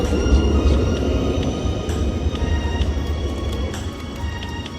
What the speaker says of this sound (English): so we decided to go back on the tram